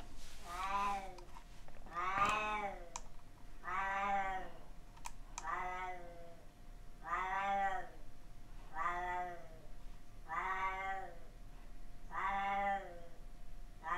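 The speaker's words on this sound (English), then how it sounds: "That's my cat in the background, if you can hear him." A cat meows repeatedly in drawn-out, bleating calls at a steady rhythm, fairly close and clear, over a faint background hum.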